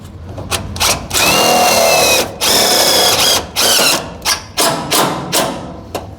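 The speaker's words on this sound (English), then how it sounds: "I'm just gonna try to drive this screw. This is a self-tapper." A power drill driving a self-tapping screw into the floor pan of a 1969 VW bus: repeated loud whirring bursts of varying length, with short pauses and thuds between them, close up.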